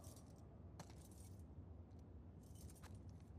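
Keys jangle faintly in two short bursts as they are tried in a lock in The Last of Us 2, over a steady low background hum.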